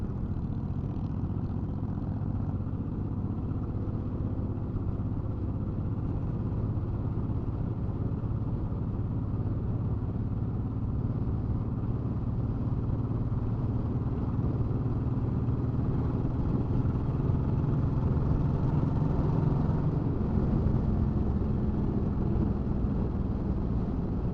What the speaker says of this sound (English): I'm in a pack of gold wings right now